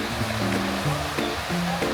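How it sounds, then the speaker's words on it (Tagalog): Artificial waterfall in a park in Seville, Spain, a steady broadband wash of falling water heard under a tonal murmur of nearby voices or music. "Artificial waterfall."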